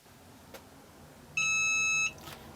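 One shrill electronic beep from a heat press finishing its timer sounds for under a second, loud and close against a quiet background.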